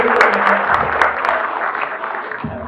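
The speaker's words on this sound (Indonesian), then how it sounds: "Berikan tepuk tangan sekali lagi" A hall full of people applauding at an engineers' professional oath ceremony at a university engineering faculty, a loud, dense, steady clapping that carries through the whole stretch, with a few sharper individual claps standing out.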